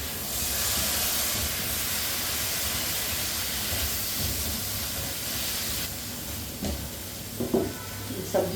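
Potato and pumpkin pieces for a pumpkin sabji sizzle and hiss steadily in hot oil, loud and close, with a few utensil clatters and stirring noises near the end.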